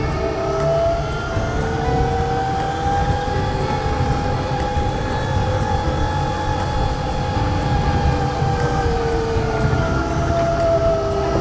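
An electric motor in a converted Toyota Stout truck strains up a hill in second gear. A steady, loud electric whine rises and falls in pitch under constant road rumble, with no talking.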